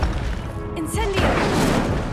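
Incendio fire spell cast in the video game Hogwarts Legacy, a loud burst and crash with a whooshing flare that swells partway through, set against game sound and voices.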